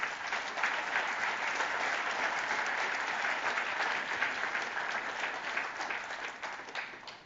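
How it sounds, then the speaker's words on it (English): Audience applause at an e-commerce developer conference keynote in New York, a sustained, even wash of many hands clapping in a large room, fading slightly toward the end with no speech. "we should all stop, and we should give these folks a round of applause"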